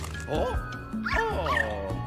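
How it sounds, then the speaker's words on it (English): A cartoonish dog from a Luigi video game lets out a few short, yappy barks and whimpers over a few seconds of tinny game audio, close and clear. "Doggy."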